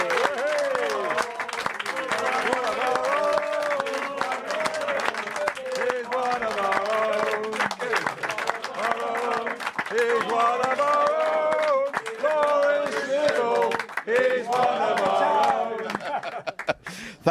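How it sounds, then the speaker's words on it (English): A studio audience applauds guest Laurie Sivell on a TV show, loud sustained clapping with some cheering and laughter that runs throughout and tapers at the end. "Give him a big round of applause"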